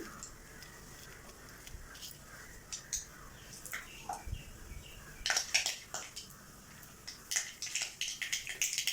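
Mustard seeds splutter in hot oil in a pan: faint, scattered pops and crackles, sparse at first and then coming in quicker clusters near the end.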